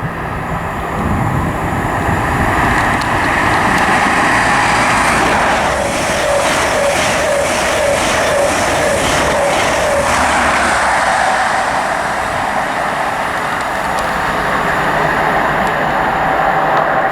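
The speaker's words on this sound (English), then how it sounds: "next train to pass through is an LNER service to Aberdeen from London King's Cross" An LNER HST passes through Grantham station on the East Coast Main Line toward Aberdeen, a loud, sustained diesel roar with rhythmic clattering of wheels over rail joints, filling the whole span near and steady.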